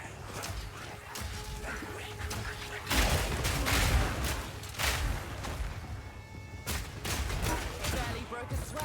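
Crossbow fire from Path of Exile 2, with repeated sharp booming grenade blasts and crashes over a dense, noisy game mix, heaviest in the middle and returning in bursts toward the end.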